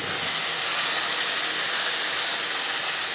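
Whole cumin seeds sizzling in hot oil in a wok, a loud, steady, close hiss of frying that continues unbroken without any voices.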